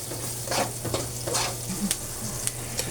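Chopped onion goes into a hot pan already sautéing garlic, giving a steady low sizzle with scraping stir strokes and a few light clinks of the utensil against the pan, with no voice over it.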